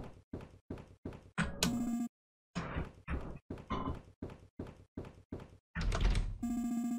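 Locked door in the game Capgras being tried: a run of short rattling knocks and thunks in quick succession, with brief tonal chimes between bursts and a pause in the middle.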